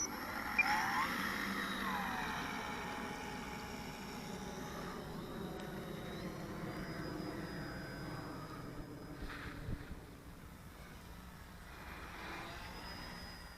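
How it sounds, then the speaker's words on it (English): An E-flite Mini Ultra Stick RC airplane flies outdoors, its electric motor whining at varying distance as it passes, a fairly faint, drifting buzz over background noise. "one more flight of the Mini Ultra Stick today"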